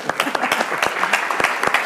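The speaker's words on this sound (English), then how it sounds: "it's applause, right?" A small tech-demo audience gives sparse, scattered applause, a brief patter of separate hand claps lasting a couple of seconds.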